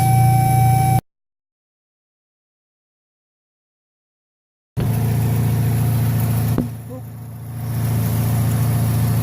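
Chevrolet HHR engine idling with a suspected exhaust leak, a steady close mechanical hum that cuts out briefly and then resumes, with a slight dip in level near the end.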